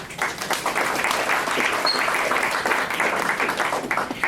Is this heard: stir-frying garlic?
no